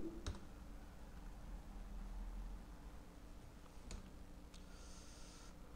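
Two faint, sharp clicks of the Enter key on a computer keyboard during data entry in Tally Prime accounting software, spaced a few seconds apart over a quiet, steady room hiss.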